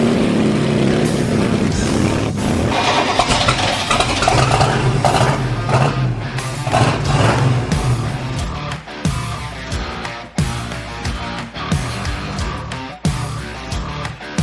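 A 1962 Stepside pickup truck engine runs loud and close, a rough rumbling idle with revs rising and falling and sharp irregular pops toward the end.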